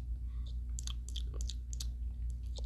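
Someone chewing shrimp close to the mic, with a run of wet, crunchy bites and soft mouth clicks at an irregular pace over a low steady background hum.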